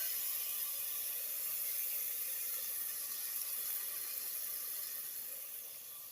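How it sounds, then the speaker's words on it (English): A ribeye steak, seasoned, sizzles steadily inside a hot air fryer. It makes a constant bright hiss with fan whir and no talking, and it fades slightly toward the end. "Y'all hear that sizzle?"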